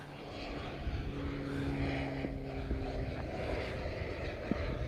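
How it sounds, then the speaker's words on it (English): A fixed-wing airplane passes overhead outdoors as a faint, steady engine drone with a low rumble, heard from a distance with no talk. "Another plane."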